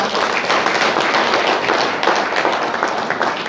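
Audience applause at a Korean women's political federation chapter event honoring guests, a steady dense wash of many hands clapping throughout.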